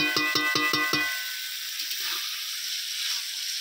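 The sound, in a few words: meat cooking in a pan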